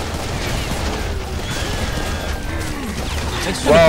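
Dense barrage of rockets firing and exploding in the video game Serious Sam: BFE, a continuous loud roar of blasts and mechanical clatter with no gaps.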